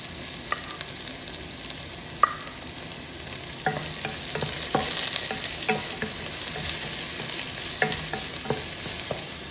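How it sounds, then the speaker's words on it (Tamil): White onion sautéing in a pan for curry bun filling: a steady close sizzle of frying, with scattered scrapes and taps of a stirring spoon against the pan throughout. "இப்படி வதங்கி வர நிலையில் நாங்கள் வெள்ளை வெங்காயத்தை போடுவோம்."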